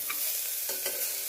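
Onions for biriyani frying in a pan, a brief dense hiss of sizzling oil with a faint stir partway through, close and steady.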